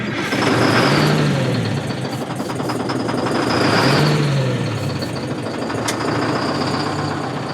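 A 100,000 lb Insley excavator's engine running after sitting for 30 years, loud and close, a steady rough diesel clatter with slow swells in revving as the throttle is nudged up.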